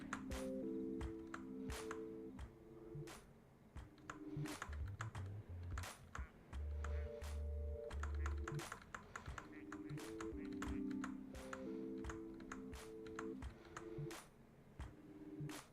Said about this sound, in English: sorry if my keyboard is like very mechanical